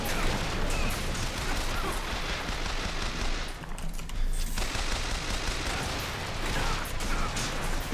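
Dense, continuous burst of rapid gunfire from a repeater machine gun in BioShock Infinite, loud and sustained with a brief dip in the middle, with a hint of voice underneath.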